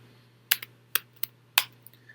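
Several separate, crisp keystrokes on a computer keyboard while entering commands in Stata statistical software, close and clear over a faint steady hum, with short pauses between taps.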